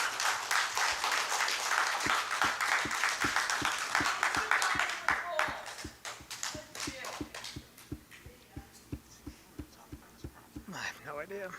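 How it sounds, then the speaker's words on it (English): Council meeting audience applause fills the room, dense clapping that thins out after a few seconds into scattered individual claps, with talk continuing underneath. "I take another round of applause for those two gentlemen"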